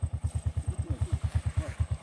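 A motorcycle engine idles or putters close by on a rural road to the village of Nzamba, Lukunga Mputa, in the DR Congo, giving a steady low, rapid pulsing throb with faint voices behind it.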